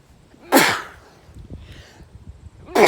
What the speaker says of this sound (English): Those were some solid sneezes.